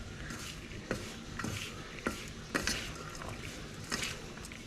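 Salted food being mixed in a pan, with soft scraping and a few sharp clinks of a utensil against metal at steady intervals, close and moderately quiet, with no talking.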